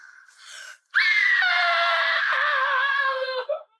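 A woman's drawn-out, wailing scream from a horror film about a cannibal family, loud and close, following a brief gasp, then breaking off abruptly.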